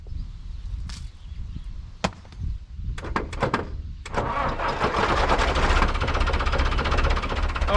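A tractor engine is cranked with a few sharp clicks and bangs, then catches and settles into a steady loud idle as it warms up, close by, with no talk.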